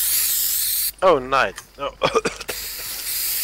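Aerosol spray hissing: a loud, steady jet sounds at the start, breaks off while someone speaks, then resumes near the end as a continuous hiss.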